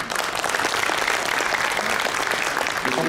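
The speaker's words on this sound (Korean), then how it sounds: "박수 부탁드립니다" Applause from the audience at a 2019 smart city international symposium panel discussion in Daegu, a full, even burst of clapping lasting throughout, close and loud.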